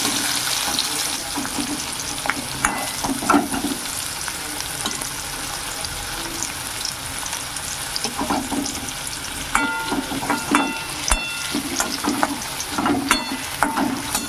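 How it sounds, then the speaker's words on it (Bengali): Parboiled teasel gourd (kakrol) is turned and stir-fried in a pan: a continuous frying hiss broken by repeated scraping and clinking of a spatula against the metal, all close up and without voices. "উল্টে পাল্টে ভেজে সিদ্ধ করে নিতে হবে"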